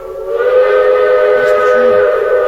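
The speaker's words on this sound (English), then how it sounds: "That's the train." A train whistle sounds as a train arrives at a station, a loud, steady, harmonic blast held for the whole stretch, with faint voices murmuring underneath.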